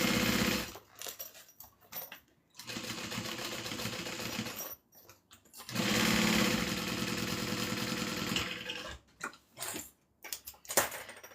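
A sewing machine stitches the lining of a Tiffany dome satchel, running in several loud bursts of rapid mechanical whirring, broken by short pauses and handling noises.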